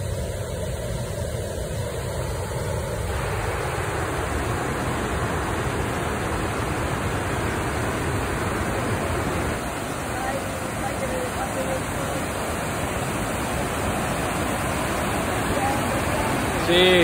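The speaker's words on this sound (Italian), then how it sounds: "Il rumore del fiume Toce." A loud, steady roar of the rushing Toce river in Val d'Ossola, Italy, fills the whole stretch, broad and constant without letting up.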